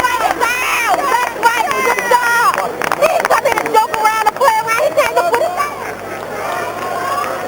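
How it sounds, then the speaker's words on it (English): Crowd noise fills a boxing arena after a Demarcus Corley versus Randall Bailey bout ends, a dense, steady roar of many voices and reactions throughout, with shouts rising above the general hubbub. "The crowd will tell you what they thought of it. Hear the reaction."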